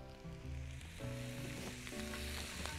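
Cashews fry in a pan with a bright sizzle under a pulsing, tonal hum, close and continuous, with no one speaking.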